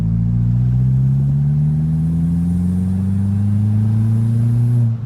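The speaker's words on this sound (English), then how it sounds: "that turbo, I don't know what's going on with that, but it sounds so good" An MK4 with a 1.8T turbo engine and custom cat-back exhaust holds a loud, steady rev that slowly climbs in pitch, a deep droning exhaust note heard alone and close, cutting off just before the end.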